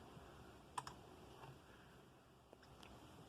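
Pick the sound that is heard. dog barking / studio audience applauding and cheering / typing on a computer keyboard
typing on a computer keyboard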